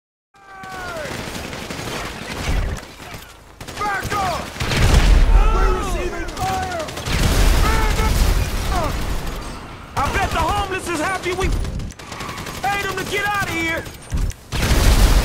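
Bursts of gunfire in Grand Theft Auto V, loud and repeated in clustered volleys across the whole stretch, mixed with game sound effects and tonal chirps, with no clear pauses between exchanges.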